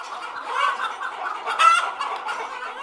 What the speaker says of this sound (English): An almost extinct breed of chicken endemic to this area has been revived.